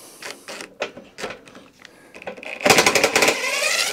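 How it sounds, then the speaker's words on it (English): Impact driver working loose the screws on a Honda mower gearbox, a burst of rapid rattling hammer blows near and loud toward the end, preceded by scattered clicks and handling knocks. "I'll try and impact some of them."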